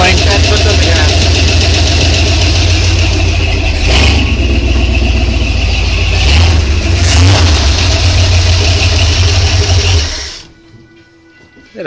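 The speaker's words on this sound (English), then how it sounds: "That's it idling." A modified 1981 Ford 400 engine idles loud and close for about ten seconds, a steady rough rumble with a couple of brief surges, before cutting out into near silence at the end.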